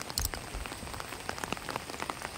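Heavy rain falls over flooded, newly planted rice fields, a dense, steady patter of drops striking surfaces close by, with no voices.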